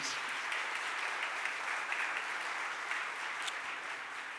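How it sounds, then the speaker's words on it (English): Audience applause in a Philadelphia City Council chamber, a steady wash of many hands clapping at moderate distance, with a few sharper claps standing out. "let's give all 3 of them another real big round of applause, please"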